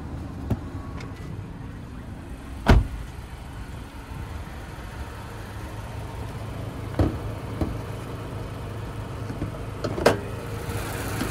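Car engine idling during an underneath inspection, a low steady hum with a few sharp clicks and knocks scattered across the run.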